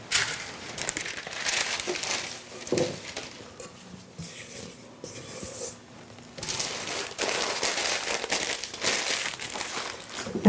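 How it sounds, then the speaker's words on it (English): Chocolate cookie dough being wrapped in plastic wrap in a home kitchen, with crinkling and crackling plastic that runs in irregular bursts. The crinkling pauses briefly partway through and then resumes, close and fairly loud, with no talking. "We're going to wrap that up in plastic wrap or wax paper"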